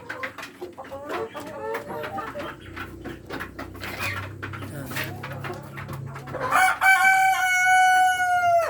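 A Rhode Island rooster on a small farm lets out one loud, close crow near the end, after several seconds of scattered clucking, pecking and other farmyard bustle.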